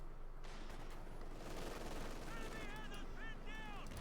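Distant gunfire and machine-gun bursts in a Company of Heroes 2 World War II battle, quiet under a busy mix of battle noise, with rhythmic rattling bursts near the end.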